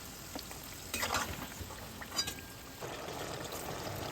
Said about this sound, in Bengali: সব আলুগুলোই আমি গরম তেলে দিয়ে একটু নাড়াচাড়া করে উল্টে পাল্টে দিলাম।